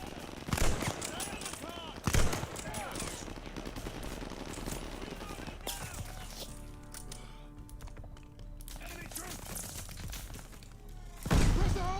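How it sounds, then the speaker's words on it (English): Machine-gun fire from a half-track in Call of Duty: Vanguard rattles in dense rapid bursts, with sharp louder cracks near the start and end. Gunfire and battle noise fill the scene continuously, and there are voices beneath it. "Suppress the half-track MG!"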